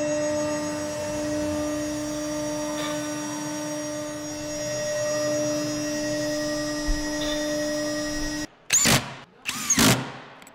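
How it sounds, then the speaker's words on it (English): A ShopSabre RC Series CNC router runs an automatic tool touch-off while cutting a wood chair project. A steady, close machine hum with a tonal whine holds throughout, then two short, loud bursts break in near the end. "we're going to use our automatic tool touch off feature"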